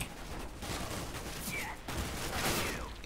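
Dense, rapid gunfire from a shotgun and machine gun in the first-person shooter CS:GO, a continuous loud burst lasting about three seconds with no pause.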